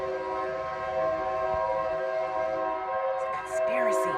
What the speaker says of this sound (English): the train is letting folks know it is arriving.